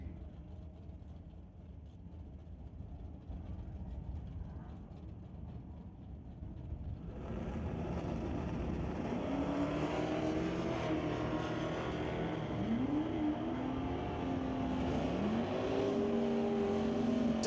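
At a drag strip, a 1968 Firebird and a 1985 S10 pickup launch side by side, a low idle giving way to loud, sustained engine roar with rising revs and gear changes that carry to the end.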